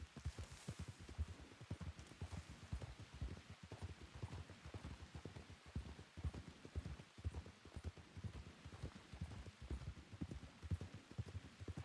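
Rain pours in the Wild West world of Red Dead Redemption 2, a soft, continuous patter of drops with gentle irregular pulses. It stays faint and steady throughout, and no one speaks.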